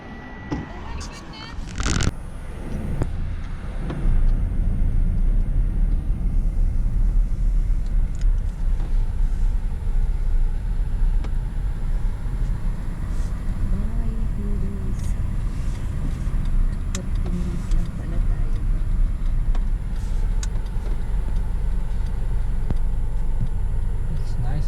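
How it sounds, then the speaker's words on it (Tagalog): A car passes by on the road near a bridge, a continuous broadband rumble of tyres and engine close by that lasts throughout, with a brief clatter near the start and people's voices faintly underneath. "May sasakyan oh."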